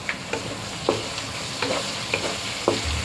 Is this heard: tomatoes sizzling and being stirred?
yes